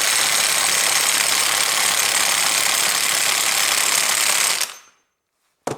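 A pneumatic impact tool runs on a nut on a Honda automatic transmission during bearing replacement, a steady loud buzzing whir for about four and a half seconds that cuts off abruptly, followed by silence and a brief final burst.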